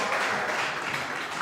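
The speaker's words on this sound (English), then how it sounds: "Big applause from both teams there." Both skittles teams applaud at a live skittles match, a dense, steady wash of clapping filling the whole short moment.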